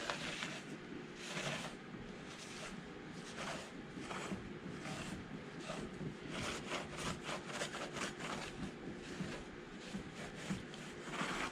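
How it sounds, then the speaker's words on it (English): A resurfaced aluminum LS cylinder head surface is wiped by hand, giving steady, close rubbing and scraping strokes in a repeated rhythm that quickens in the second half, with no voices. "now we're gonna wipe this surface to see exactly where we're at."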